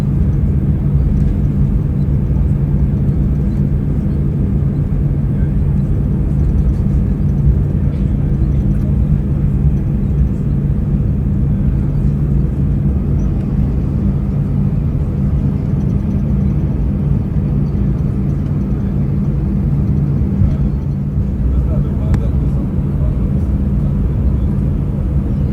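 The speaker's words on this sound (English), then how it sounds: "Here we are taxiing in formation with one of the mentioned Lufthansa 777 freighters." Cabin sound of a Lufthansa A319 airliner taxiing: a steady, loud, low engine rumble and drone that holds unchanged throughout, with no voices.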